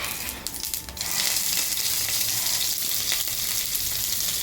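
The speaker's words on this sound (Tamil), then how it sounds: "ஒரு ஸ்பூன் கடுகு போட்டாச்சு ஒரு ஸ்பூன் வெந்தயம்" Mustard seeds, fenugreek and curry leaves crackle and sizzle loudly in hot oil for drumstick sambar, a dense continuous frying hiss with brief popping bursts near the start.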